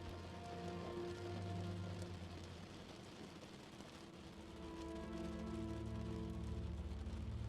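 Gentle rain with water droplets falling, a soft steady patter that runs throughout, faint and even, with a low continuous hum of distant traffic or engine underneath.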